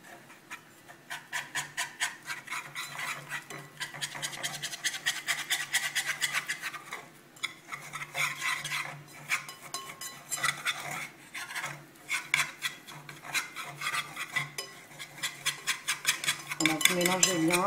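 Steady scraping and rubbing of a spoon against the bottom of a saucepan as thick béchamel sauce is stirred, in rhythmic strokes that come and go, close up.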